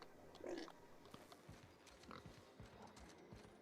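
A pig in The Outer Worlds gives a short grunting oink near the start, followed by softer scattered snorts and shuffling, faint and fairly close.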